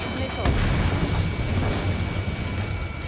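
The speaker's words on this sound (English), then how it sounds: "Missile launched." In Ace Combat 7 aerial combat, a sharp missile launch boom bursts out, then a rumbling roar rolls on at steady loudness, with a faint radio voice under it.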